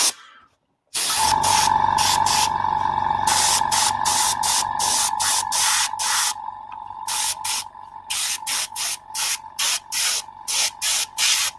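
Aerosol primer sprayed onto small model parts resting on tissue, a long continuous hiss followed by a run of short, evenly spaced bursts, close and loud with no talk.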